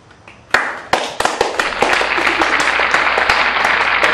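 Audience applause bursts out after a few scattered early claps, building quickly into steady, dense clapping from a nearby crowd that keeps going to the end.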